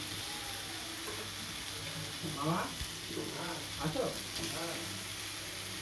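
Ginger and whole garam masala frying in oil with pumpkin and pointed gourd, a steady close sizzle with a few stirring scrapes and brief crackles rising through it.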